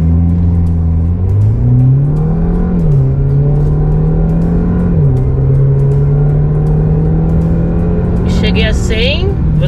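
A RAM Rampage RT pickup with sport exhaust accelerates hard on a straight road, its engine note climbing steadily through gear changes, loud and close, with voices over the top.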